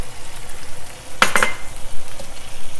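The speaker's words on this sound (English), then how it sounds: "I'm going to add the garlic and ginger in this and let it cook" Garlic and ginger sizzle softly in a pan, with a brief metallic scrape and clink of a utensil midway.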